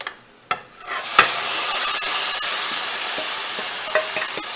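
Pork hits a hot frying pan with a sharp sizzle that swells into a steady, loud frying hiss, with a few clicks and knocks of the pan in the mix.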